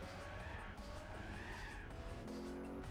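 A TVR T350C race car engine in Gran Turismo 4 drones steadily at high revs with tire squeal and skidding, a continuous loud game-style roar.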